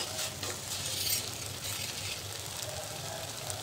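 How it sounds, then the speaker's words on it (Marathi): Crushed roasted peanuts being stirred into a pan of sautéed vegetables for a festival thali, with a steady soft sizzle and scraping stir throughout, close and alone without talk. "त्यामध्ये थोडंसं कूट घालायचे, शेंगदाण्याचं कूट मिक्स करायचं."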